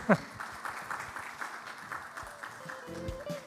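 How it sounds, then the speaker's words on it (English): An audience at a breakout session of a summit claps steadily in a sustained round of applause, with a brief voice heard near the end. "Big applause, please."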